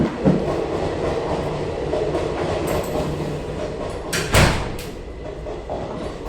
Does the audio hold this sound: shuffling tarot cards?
no